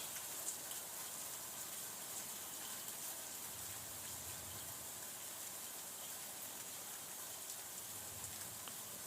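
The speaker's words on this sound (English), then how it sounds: "Just allowing the sounds of the rain and the energy of the elements of water to cleanse and release." Steady rain falls in a continuous soft hiss with scattered patters and drips, heard alone at low volume without a break.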